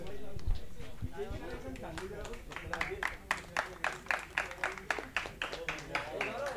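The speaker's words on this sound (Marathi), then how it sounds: "एकदा जोरदार टाळ्या." At a rubber-ball cricket tournament prize ceremony in 2024, a crowd breaks into loud, evenly paced rhythmic clapping that follows a stretch of speech and crowd noise.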